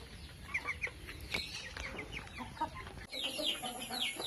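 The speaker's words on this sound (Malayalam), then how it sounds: "ഏകദേശം രണ്ട് മാസം പ്രായമുള്ള നാടൻ കോഴി കുഞ്ഞുങ്ങൾ" Two-month-old native chicken chicks in a coop, chirping and clucking in a busy, overlapping chorus of short calls that carries steadily throughout, with no voices.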